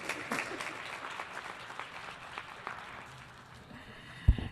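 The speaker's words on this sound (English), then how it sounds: "a round of applause for the remarks that are being delivered by the Deputy Secretary General, Ms. Amina Mohammed." Audience applause at a UN General Assembly observance for Desertification and Drought Day fills the room as a dense patter of many hands clapping, gradually thinning toward the end, with a sharp knock just before it finishes.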